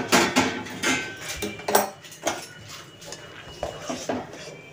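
A lid is lifted off a pot of boiling vegetable Manchurian sauce, giving a series of close metallic clanks and scrapes of pot and cookware spread through the moment.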